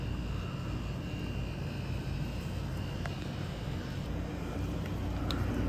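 A 1983 Gibson SlumberMaster window air conditioner runs with a faint, continuous low hum and airy fan noise, a couple of small ticks standing out.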